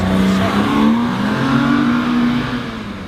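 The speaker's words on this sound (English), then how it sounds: "With the car at the start line, spinning the rear tyres to warm them up" A Porsche sits at a hillclimb start line spinning its rear tyres to warm them, giving a loud, steady, high engine howl with a rising tone and a hint of tyre squeal throughout, close by.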